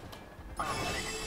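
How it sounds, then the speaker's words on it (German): Mechanical ratcheting and grinding of a rotating bridge turning in the video game Watch Dogs, starting abruptly midway and continuing as a steady whirring, fairly quiet. "ich will die Brücke gleich wieder zurückdrehen"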